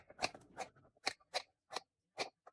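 Scissors cutting fabric out of a bed sheet, a series of quiet, separate snips spaced at an irregular rhythm, close by and faint with no talk.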